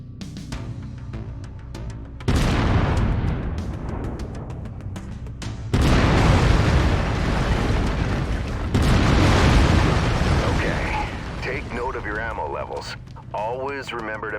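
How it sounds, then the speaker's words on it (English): An autocannon on a mech in MechWarrior 5 fires heavy booming bursts in three long sustained salvos, loud and close, with rumbling tails between shots and a brief lull before a final shorter burst. "I've mapped the autocannon to Weapon Group 1. You're free to fire whenever you're ready."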